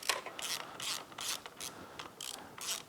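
A ratchet loosens the outer clutch plate bolts on a Honda Grom, giving about eight quick bursts of close, crisp clicking, each a fraction of a second long with short pauses between, and no talking.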